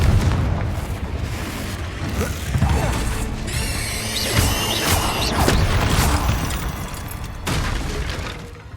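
Repeated Confringo blasting-spell explosions in Hogwarts Legacy, loud booms and crackling bursts recurring over several seconds amid game music and effects.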